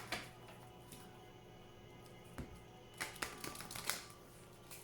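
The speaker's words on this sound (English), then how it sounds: "as I shuffle the cards" Oracle cards are shuffled by hand, at first soft and sparse, then a quick flurry of riffling, snapping taps near the end, quiet and close.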